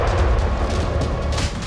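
A loud, continuous rumbling blast effect with a deep low roar and crackling texture sustained throughout, evoking pagers exploding across Lebanon; no speech.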